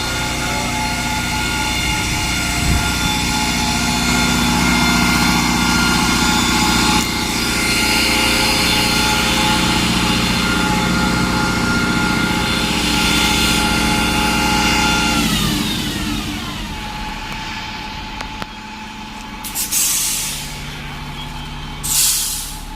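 A Stagecoach London double-deck bus at the West Ham depot revs its engine hard and steadily to build air pressure, then drops toward idle around fifteen seconds, followed by a couple of sharp air-brake hisses near the end, close and loud.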